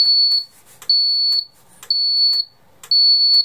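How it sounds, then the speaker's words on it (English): Alarm sounding on an ITI SX-V security system, a loud piezo siren on the keypad giving shrill, steady high-pitched tones in a regular on-off pattern of about half-second bursts, close and alone. "the loud piezo you're hearing is actually on the other keypad"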